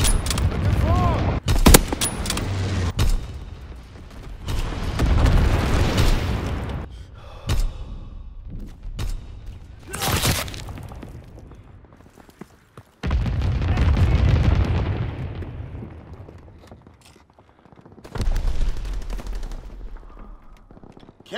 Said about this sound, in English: Incendiary bombs incoming.